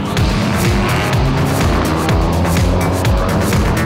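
VW Scirocco race cars roar off in a flying start at the Nürburgring 24-hour race, a pack of engines revving and droning loudly together with rising and falling tones as cars pass close by.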